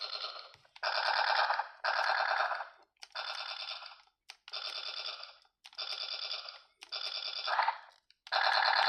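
Electronic sound effect from an Ultraman Nexus Divait Launcher toy fires in repeated rapid bursts, buzzy and tinny, each burst about a second long with short gaps, no talking.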